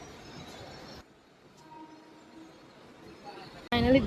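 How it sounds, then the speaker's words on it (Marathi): Rumble of a passenger train ride for about a second and a half, then a steady low rail hum and faint clatter from inside the carriage, ending in a sudden louder burst with a squeal. "सो आता फर्स्ट टाइम रायाचं ट्रेन ट्रॅव्हल आहे."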